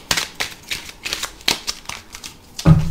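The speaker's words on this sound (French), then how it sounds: "je remélange un petit peu et puis après on va prendre 9 cartes" Tarot cards being shuffled by hand, a quick series of crisp riffling and slapping bursts, close and fairly loud, ending with a soft thump as the deck settles.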